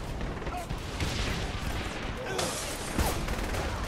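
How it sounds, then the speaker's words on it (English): Sniper rifle fire in Saints Row: The Third, with several sharp shots and crashing impacts over a dense, noisy game mix, mostly without talk. "Oh, that's a proper sniper rifle."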